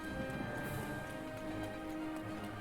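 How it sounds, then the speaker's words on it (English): Rainfall patters continuously in Breath of the Wild, a fine even hiss of drops at moderate level beneath faint tonal game music. "Oh look, it's raining."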